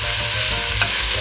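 Chopped karia peppers are stirred into a hot, sizzling pan of gomen, Ethiopian collard greens, with the scrape of a utensil over continuous frying.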